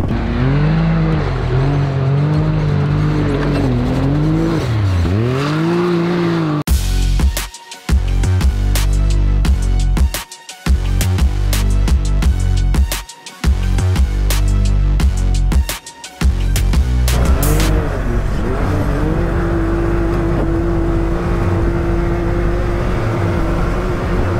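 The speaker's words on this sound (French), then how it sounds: "Il glisse au freinage et à l'accélération!" A car slides under braking and acceleration on a race track, its loud engine revving high and dropping through repeated gear changes and throttle bursts, close and continuous.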